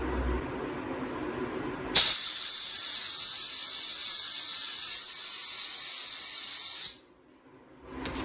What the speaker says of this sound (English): I'm gonna blow air in the line now.